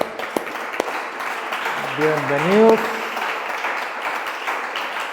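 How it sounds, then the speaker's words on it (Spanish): Church congregation applauding for online viewers, a broad steady wash of clapping that runs throughout, with a voice speaking over it and a brief tonal swell near the middle. "¿Cuánto le damos un aplauso a todos los que nos están viendo por Facebook Live?"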